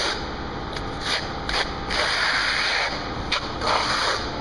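A trowel dragged tightly over a brown coat while spreading a cheesecake-textured stucco finish coat on an exterior wall, a close, continuous rasping scrape with rhythmic bursts as each stroke sweeps across the surface.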